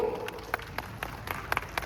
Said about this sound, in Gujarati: પ્રતિમ કરો જોરદાર તાળીઓ